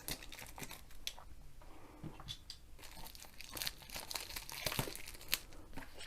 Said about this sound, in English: Just take the cellophane off.